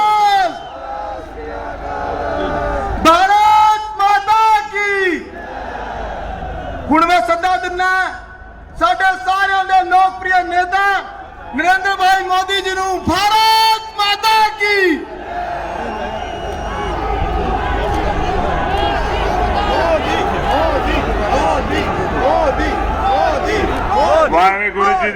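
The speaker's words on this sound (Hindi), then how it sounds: "जोरदार तालियां, जोरदार जयकारे, बोले सो निहाल" A large crowd at a Narendra Modi rally in Abohar, Punjab, roars Sikh slogans in repeated loud unison bursts, then settles into sustained applause and cheering.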